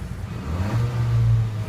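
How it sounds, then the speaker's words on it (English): Turbocharged engine of a 2020 Kia Soul GT with a K&N air intake revving briefly, a low rising drone with a whooshing air sound that swells and holds near the microphone. "Oh, I hear the sucking of the air from the turbo."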